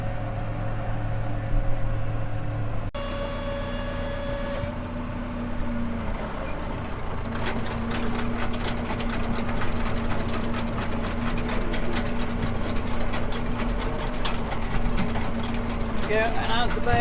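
A tractor drives along while unrolling a round hay bale to feed heifers, its engine a steady, loud, continuous rumble with rattling machinery, and someone talks over it at times.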